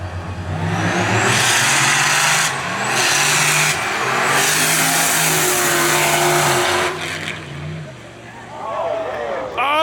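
Street-car drag racers make 1/8 mile passes at a Houston event, loud engines roaring and shifting through gears close by before fading, with crowd and announcer noise underneath and a tire chirp at the end.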